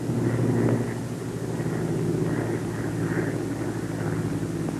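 A Bell P-39 fighter's piston engine runs throttled back to climbing power at 2,600 RPM, a steady loud droning roar with a low engine hum and rushing wind noise, constant throughout.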